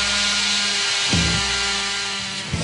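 A hammer drill bores into a garage wall while a wall track is being installed, a steady close grinding whine with a brief surge partway through.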